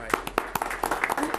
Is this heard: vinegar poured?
no